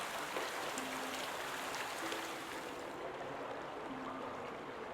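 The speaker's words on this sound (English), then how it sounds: "Okay, we're pouring water into this now." Water pouring into a machine in the video game Obduction, a quiet steady splashing trickle with a faint tonal hum underneath, continuous throughout.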